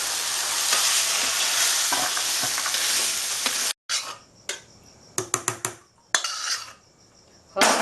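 A Bengali-style pumpkin and chickpea curry sizzles steadily in a pan while being stirred, then after a brief pause comes a run of sharp, close spoon scrapes and clinks against the metal, with no talking.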